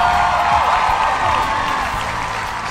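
An audience at a televised classic-melody concert applauds warmly to welcome the lead singer, a loud, dense, steady wash of clapping that continues throughout, with faint tonal music underneath.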